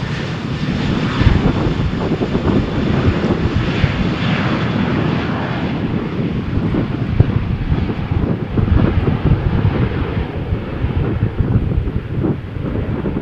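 A Jet2 airliner bound for Edinburgh takes off from Malaga Airport's Runway 13 on a stormy morning, its engines a loud, continuous roar mixed with heavy wind buffeting the microphone throughout.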